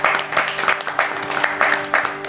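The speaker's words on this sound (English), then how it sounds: "So give yourself a big round of applause." A hall audience claps together after a talk, a dense, fairly close patter of many hands with a faint low hum underneath, continuing through the short stretch.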